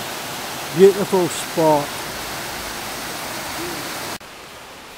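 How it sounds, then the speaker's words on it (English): The River Esk flows through wooded Glen Esk near the Gannochy Bridge as a steady broadband rush of water, continuous and moderately close, with a brief voice speaking early on before the flow carries on alone and then drops away. "There, that's the river."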